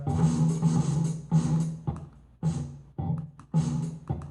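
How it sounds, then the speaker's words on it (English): Synth tones run through a modulator plugin in ADSR mode with the detector hold scaled back, adding a smeared spectral bleed. Loud bursts come in repeated phrases with short gaps between them, and no voice is heard. "it adds like a spectral bleed"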